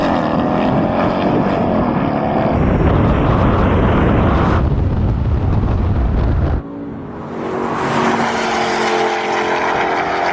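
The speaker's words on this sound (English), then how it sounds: "Got a good launch in the Porsche." A Porsche 718 Cayman launches hard in a drag race, its engine roaring loud and close with rising revs and abrupt shifts, then easing into a lower, steadier drone.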